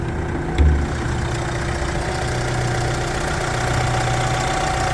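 A 2019 Opel Movano L1H1 van with an automatic gearbox idles with the hood up, a steady, close, low engine rumble after a brief bump at the start.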